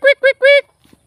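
Ducks quacking in a flooded rice paddy, three loud nasal calls close by in quick succession, then faint soft sounds.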